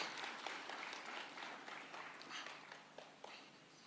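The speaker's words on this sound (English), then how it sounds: "Let's give her a round of applause." Applause from the audience at a Kenya-EU economic partnership agreement signing ceremony, a moderate, steady patter of many hands clapping in a large room with a few sharper claps toward the end.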